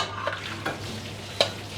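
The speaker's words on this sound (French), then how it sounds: "nos pâtes sont cuites, on va les égoutter et on va les rajouter directement" Cooked pasta is drained and tipped into a saucepan of sauce, giving a soft continuous stirring and sizzling texture with a few faint clinks and splashes and no voices.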